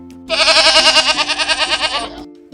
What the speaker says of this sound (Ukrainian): а це в нас з вами кізочка. Вона каже